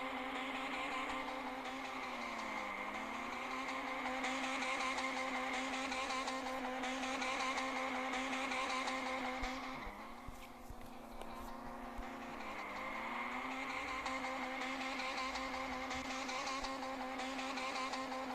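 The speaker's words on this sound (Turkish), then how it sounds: "Burada lastik yakacağım sana." A Lamborghini Aventador revs and spins its tires in an Android driving simulator game, giving a steady, loud engine drone with rising and falling pitch sweeps and a brief dip midway, with no talk over it.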